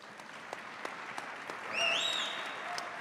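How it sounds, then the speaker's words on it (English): A conference audience at a Bitcoin event claps, soft scattered applause that swells briefly midway, heard at a distance with a faint whistle-like tone above it. "these gentlemen all deserve a big, big round of applause for that."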